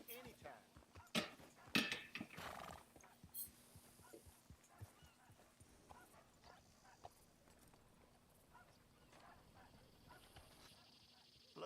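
A horse in the Red Dead Redemption video game clops its hooves in a quick, faint series of steps, followed by quieter rustling and low background sounds.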